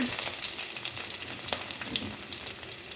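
Ginger, garlic, shallots and green chilli sautéing in a pan with mustard seeds, giving a steady close sizzle with a few light scrapes and pops, no voices.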